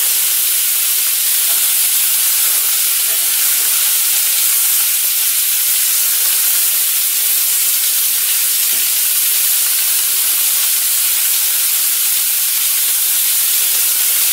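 Meatballs sear in a pan with a loud, steady, close sizzle that hisses on without a break, with no talking.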